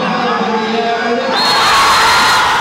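Cricket fans watching Team India on a screen roar together, a loud dense crowd of shouts and cheers that swells midway and stays at full volume to the end.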